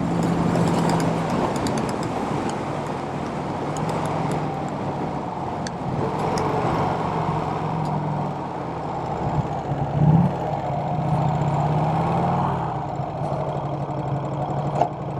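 A Vincent Rapide motorcycle engine runs in first gear on a ride, a continuous, fairly loud low drone and throb with a slight rise in pitch partway through, steady throughout and heard alone without talk.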